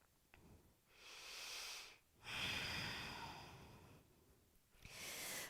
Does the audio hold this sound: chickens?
no